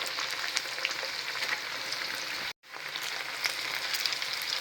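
Rice flour methi puris deep frying in hot oil, a constant close bubbling hiss with small pops, briefly cut off for a moment midway before the same sizzle resumes.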